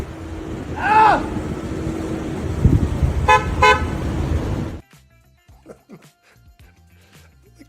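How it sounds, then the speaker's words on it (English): A passing car sounds a short double honk around the middle, loud over road and traffic noise and voices, before the sound cuts to near quiet. "The guy just honks going by."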